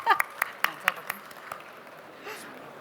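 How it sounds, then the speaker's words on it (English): Audience applause for a speaker at a Smart Home Expo talk on connected homes: a few sharp, separate claps ring out near the start, then thin into a faint, scattered patter in a roomy hall. "A big round of applause, ladies and gentlemen, Mr. Shreyans."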